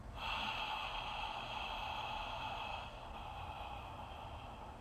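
A forceful, open-mouthed exhale during a guided breathing exercise: a long, steady breathy rush of air lasting several seconds, easing slightly toward the end, heard close and alone.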